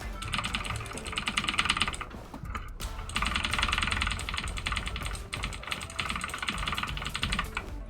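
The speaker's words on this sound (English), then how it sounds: "Okay, dashing on a keyboard is easy." Rapid computer keyboard typing from Street Fighter 6 played on a keyboard, loud and continuous, with dense overlapping key clacks that pause briefly near the two-second mark before resuming steadily.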